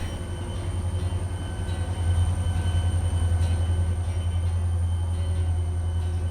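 Freight train on the railroad slowing for a brief stop at Ila, with a steady loud low rumble of wheels and railcars that swells slightly midway and continues throughout, with no talk.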